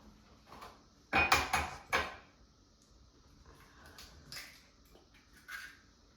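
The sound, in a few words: cracking an egg into a mug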